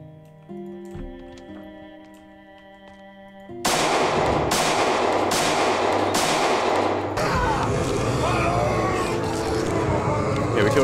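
Pistol gunshots in the zombie survival game Project Zomboid, about four loud evenly spaced cracks over busy game noise after a quiet stretch of synth music.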